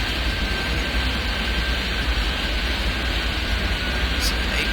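A Boeing 747 in Airport Simulator 3D gives off a steady, loud jet roar, a constant broadband hiss with no breaks.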